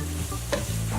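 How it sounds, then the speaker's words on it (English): Spinach and green onion stir-fry in a skillet, a short burst of close, bright sizzling with a soft spatula scrape in the middle and no voices. "all we want to do is kind of let this stir fry"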